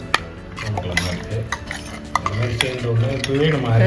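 A drumstick curry is stirred in a metal pan, with a spoon scraping and clinking against the sides in quick repeated strokes under a soft sizzle, close and fairly loud.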